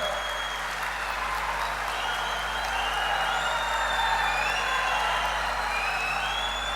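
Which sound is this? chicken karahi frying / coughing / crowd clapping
crowd clapping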